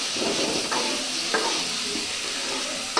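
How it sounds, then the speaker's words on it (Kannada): Dhaba-style chicken sukka frying in its own released oil in a pan, a continuous close hissing sizzle with brief stirring scrapes, moderately loud and without talk. "ಎಣ್ಣೆ ಅಂಶ ಬಂದಾಗ ಚೆನ್ನಾಗಿ ಫ್ರೈ ಆಗುತ್ತೆ"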